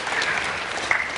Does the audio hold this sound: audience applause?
yes